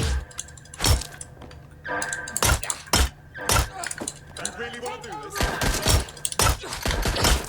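Gunfire from a weak gun in Watch Dogs Legion: a series of sharp, loud single shots spaced irregularly over game ambience, with some talking mixed in.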